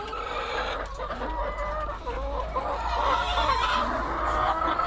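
Chickens cluck and murmur continuously as they feed at a homemade PVC pipe feeder, a busy flock close by with a low steady hum underneath and no talking.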